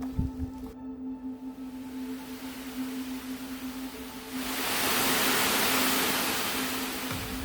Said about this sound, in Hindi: यहाँ पानी का फ्लो काफ़ी हैवी है